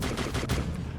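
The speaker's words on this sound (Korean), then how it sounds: "근무를 교대하는 병사들이 이를 발견하여 사격을 시작했습니다" Soldiers firing guns in the RimWorld video game, dense overlapping shots merging into a continuous loud rattle of gunfire with no gaps.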